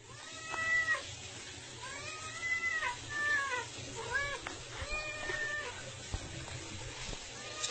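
A cat meows repeatedly beside a bathtub with someone in it, four or five drawn-out, insistent cries at a steady pace, close by, with faint splashing and thumps around them.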